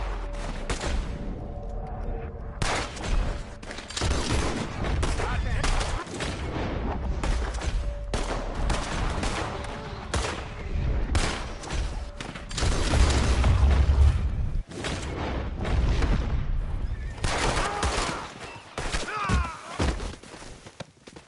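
Gunfire in the hunting game Hunting Simulator 2 crackles in dense, repeated bursts over about twenty seconds, loud and close, with some talking mixed in.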